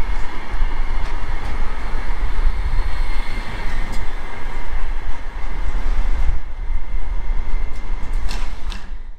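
A Birmingham tram rolls past close by, a steady loud rumble and rail clatter with faint squeals and clicks, fading slightly near the end.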